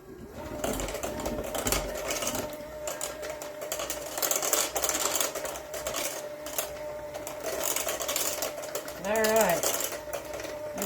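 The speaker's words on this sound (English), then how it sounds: "we're just going to mix that together" Blueberry cream cheese muffin batter is mixed in a bowl with a whirring, buzzing motorized rattle that runs continuously and rises and dips in intensity, while people talk over it.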